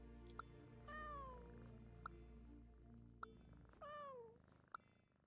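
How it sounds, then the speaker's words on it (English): A cat in the video game Genshin Impact meows while being petted: two drawn-out, bending meows close up, with soft chime-like clinks ticking between them over a steady low game backdrop. "Oh, I can pet the cat!"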